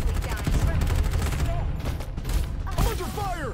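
Rapid gunfire bursts from the video game Farlight 84 crackle densely and loudly through the whole stretch, with game effects mixed in.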